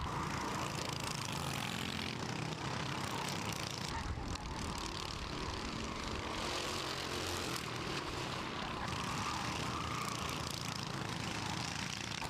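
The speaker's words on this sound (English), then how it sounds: "And now there he goes down the inside, Harley Burton." Racing go-karts at Kiltorcan Raceway pass in a steady, continuous engine drone from a distance, a dense buzzing roar that holds throughout without a break.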